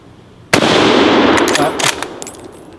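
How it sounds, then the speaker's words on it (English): A single loud gunshot from a bolt action service rifle fired at close range outdoors, a sharp crack followed by a long rolling echo and faint rattles as it fades. "I got my trigger off there a little sooner than I meant to."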